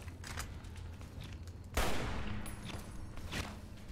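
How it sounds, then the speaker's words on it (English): Sniper rifle fire in the video game Fallout New Vegas: one sharp, loud shot cracks out midway, with scattered fainter gunfire and game noise around it. "Let me try my sniper rifle just for funsies."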